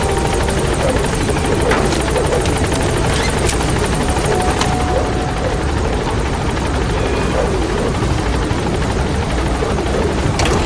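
The B-Quad transport helicopter from Metal Gear Solid V setting down at a landing zone: a loud, close, continuous rotor roar and engine whine filling the whole stretch steadily, with no voices over it.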